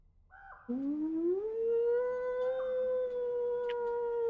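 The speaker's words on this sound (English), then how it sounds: "in the distance you begin to hear a howling" A lone distant wolf howl rises from a low start into a long sustained wavering tone that holds steady for several seconds, with no talking.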